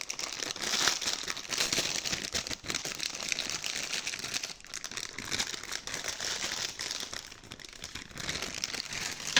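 Plastic packaging around a cheap storage item bought from Temu crinkles and rustles without a break as it is unwrapped close by, with scattered sharper crackles and no talk.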